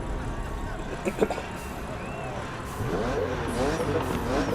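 Game engine audio of a BMW Z4 sDrive35is racing in The Crew Motorfest, a steady loud drone rising and shifting through revs, with brief sharper bursts early on and a surge in intensity partway through.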